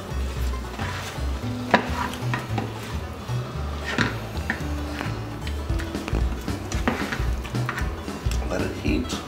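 General Tso's stir fry with sauce being stirred in a pan: uneven scraping and knocking of a utensil against the pan with soft sizzling, close by, while a person talks intermittently over it.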